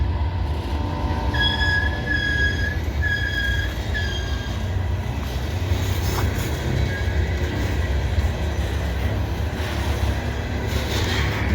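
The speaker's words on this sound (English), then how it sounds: "That's CWS coal train." A CSX coal train rolls past nearby in a steady rumble of wheels on rail, with intermittent high metallic squeals from the wagons, and no talking.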